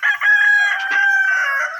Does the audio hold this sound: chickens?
yes